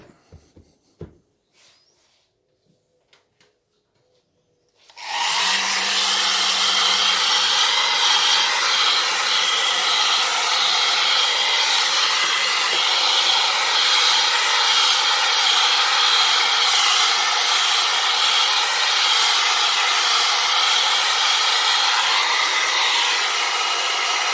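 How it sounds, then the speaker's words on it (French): A hair dryer blows on a wet remote control. A few seconds of quiet handling clicks come first, then the dryer switches on with a loud, steady close-up whoosh that runs unbroken to the end. "Un petit coup de sèche-cheveux."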